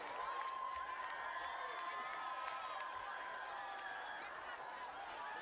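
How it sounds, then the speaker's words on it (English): A high school football crowd cheers and shouts steadily in a stadium, a distant wall of voices with whistling and cowbell-like tones, sustained and fairly faint throughout. "the Spy Ponder crowd absolutely loving it"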